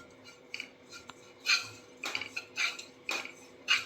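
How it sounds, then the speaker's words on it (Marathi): Dry coconut pieces roasting in a hot kadhai, with light scraping and clinking of a spatula against the metal pan in irregular taps, faint and close, no talk. "या कढईमध्ये मी 1 वाटी सुकं खोबरं भाजून घेते आहे"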